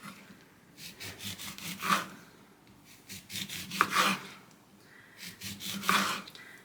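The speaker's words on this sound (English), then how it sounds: "We're going to cut up the orange into slices." A knife slices through an orange on a cutting board, giving three soft rasping, sawing strokes about two seconds apart, close and fairly quiet, with faint rubbing between them and no voices.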